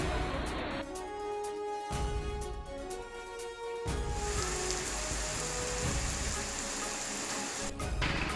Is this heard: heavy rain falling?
yes